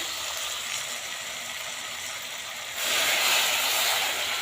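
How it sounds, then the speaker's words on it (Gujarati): Steady frying hiss suddenly swells into a louder, brighter sizzle as half a glass of water is poured into a hot pressure cooker of spiced vegetables, then keeps hissing. "હવે નાખીશું આપણે અંદર પાણી"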